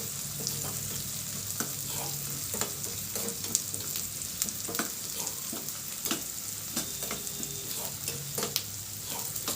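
Pepper seeds and other ingredients fry in a pan until lightly golden while dadhojanam is prepared, a soft continuous sizzle with occasional stirring clicks and scrapes, quiet and close, without speech.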